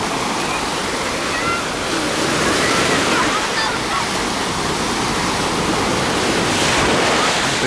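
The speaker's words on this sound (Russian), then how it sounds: "Такие вот волночки." Small sea waves wash steadily onto a sandy beach at Oba, Alanya, Turkey, a continuous close surf wash with light wind on the microphone.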